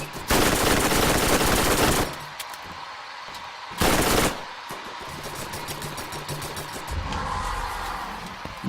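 Borderlands Underdome arena gunfire: a long, loud burst of rapid automatic fire, then a short burst and scattered shots with background rumble from the game.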